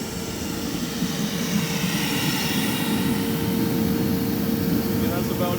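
A torpedo heater blower and a shop vac run together in a garage, a loud, steady roaring whoosh with a constant hum, while a person talks over it.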